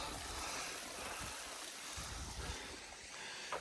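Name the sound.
small waterfall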